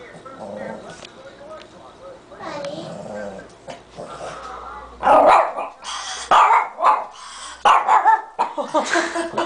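A dog barks in sharp, loud bursts close by, the barks clustering in the second half, with whimpering yips and people talking and laughing in between.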